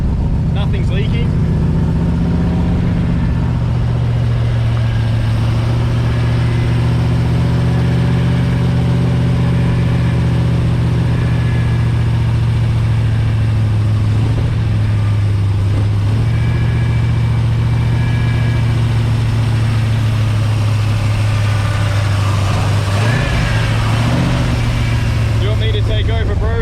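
A freshly rebuilt Ford 351 Cleveland V8 in an XD ute runs steadily during cam break-in, a loud, even drone held at elevated revs with a slight rise and waver near the end, while people talk over it.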